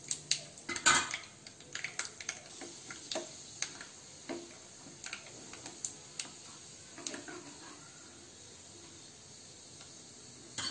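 Peanuts and dal roasting with mustard seeds, urad dal and curry leaves in a pan on the stove for leftover-rice adai, heard as scattered light ticks, sizzling pops and a few metal clinks, fairly close and without talk.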